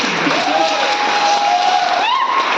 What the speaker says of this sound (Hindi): तो तालियां और जोरदार होनी चाहिए।